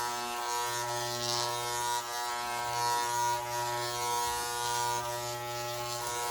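Electric clippers with a guard buzz steadily and close while trimming a Yorkshire terrier's coat, the hum shifting slightly as the blade moves through the fur.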